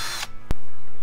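A short burst of power drill whine, building shelves inside a Ford Transit van, stops abruptly, followed by a sharp knock and a low steady hum.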